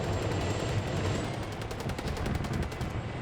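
In a video game, a helicopter chain gun fires a rapid, evenly paced stream of shots over a low engine hum. The firing runs for most of the few seconds before stopping near the end.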